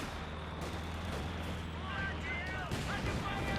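Gunfire from a German 222 armoured car at sappers in the Company of Heroes 2 strategy game. The shots sound as dense, rumbling battle noise, continuous and fairly loud, with whistling effects mixed into the steady din.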